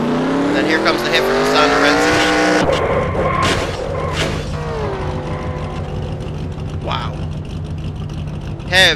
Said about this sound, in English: heavy-duty impact, and the engine explodes on that 22 car